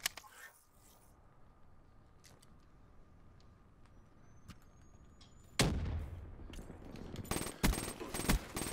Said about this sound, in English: Where the hell am I getting shot from?